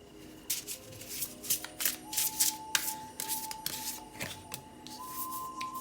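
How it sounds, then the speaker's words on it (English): Tarot cards being shuffled by hand during a card reading, a run of soft crisp riffles and slides repeating in quick bursts, close and fairly quiet, with a faint steady tone beneath. "Let me finish shuffling and we'll talk."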